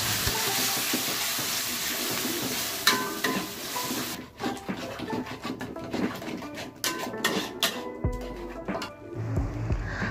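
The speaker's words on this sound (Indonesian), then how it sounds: "kita tumis sampai bau langunya hilang dan airnya menyusut" Chili paste sizzles steadily as it is stir-fried in oil, with a spatula scraping and clinking against the pan, loud and close, with no one talking.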